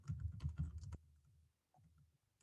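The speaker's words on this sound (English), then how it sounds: "I'm typing this in the chat." Typing on a computer keyboard, a quick close run of key clacks that stops abruptly, then quiet room tone with a few soft stray taps.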